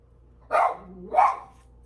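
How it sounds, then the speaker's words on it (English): A dog barks at the door twice, about half a second apart, at moderate volume in an otherwise quiet room. "All of a sudden, he's decided to start barking at the door."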